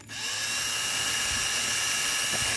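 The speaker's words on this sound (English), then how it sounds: "you see how quick and easy it is to just brush the rust off of them" A rotary wire brush on a power tool whirs steadily against rusty metal contacts from a weed eater tune-up, a high, continuous grinding whine that starts abruptly and holds at full strength.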